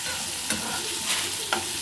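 Onions and garlic frying lightly in a pan for a vermicelli curd rice dish, a steady soft sizzle with a few brief stirring scrapes, close and unvoiced.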